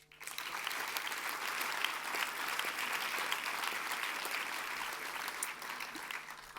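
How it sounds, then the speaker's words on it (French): Applause from the audience fills the hall at a doctoral graduation ceremony, a steady, even mass of clapping that starts abruptly and holds at moderate loudness. "Je vous propose aussi de les applaudir."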